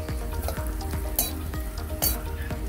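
Coconut pieces fry in hot oil for tharikanji, giving a steady close sizzle broken by light clinks and scrapes of stirring.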